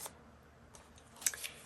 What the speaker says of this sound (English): let's cut this one. And I'm going to cut it just shy of 3